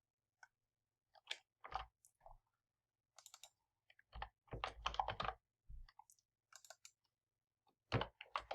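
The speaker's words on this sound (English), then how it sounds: "I'm going to hard code, meaning I'm just going to type in some data." Irregular bursts of typing on a computer keyboard, close by, with clusters of quick clicks separated by short pauses.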